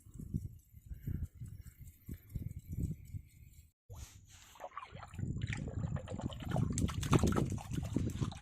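Water gushes and splashes steadily from a fountain tank on a farm, starting quieter with uneven bursts, then rising after a brief pause into a continuous, fuller rush.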